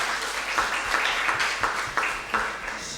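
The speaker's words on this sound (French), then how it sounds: "je vous en prie, vous pouvez applaudir" An audience at a conference on waste management in the Pacific, in New Caledonia, gives a dense, steady round of applause that holds at full strength throughout, with no talk over it.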